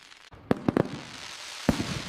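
Fireworks bursting in the sky at a summer barbecue, a handful of sharp pops and cracks in a quick cluster then one more, distant-sounding over a steady outdoor hiss.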